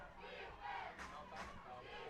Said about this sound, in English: Hear the crowd coming to life.